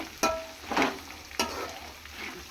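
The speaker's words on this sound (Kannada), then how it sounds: "ಹೊರಗಡೆ ಇನ್ನೂ ಸ್ವಲ್ಪ ಫ್ರೈ ಆಗ್ತಾಯಿದೆ." Churumuri puffed rice with curry leaves frying in oil in a pan for an Uttar Karnataka spicy snack, a soft steady sizzle broken by a few sharp stirring scrapes, close and alone without voices.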